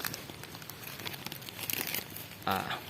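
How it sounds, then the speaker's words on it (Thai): A plastic bag crinkles as it is wrapped around a makrut lime cutting, close and moderately loud, with a stronger crumpling burst near the end. "อันดับต่อไปแล้วก็ นำถุงพลาสติกนะครับ แบบนี้นะครับ"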